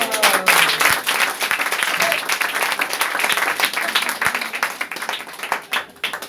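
Church congregation bursting into loud, sustained applause during a sermon, dense clapping from a crowd with some voices mixed in, tapering slightly toward the end.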